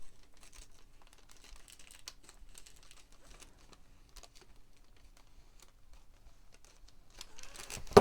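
Crinkly paper being cut for a trash journal: soft, close crackles and snips scattered through a quiet room, rising to a louder rustle at the end.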